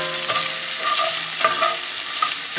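Beef sausage frying in a skillet on medium heat, a steady close sizzle with a few soft stirring scrapes and clinks.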